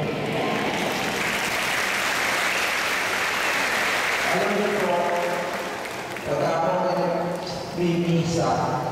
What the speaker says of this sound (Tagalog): may mga pumapalakpak na katulad niyo